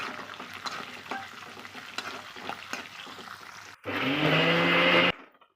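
Three chillies frying in a pan for a fried rice, light crackling and stirring clicks at first, then a sudden loud, dense sizzle for about a second before it cuts off.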